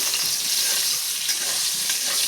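Hilsa fish pieces frying in hot oil in a pan: a continuous close, bright sizzle and crackle with faint scraping of the turning pieces, no voices.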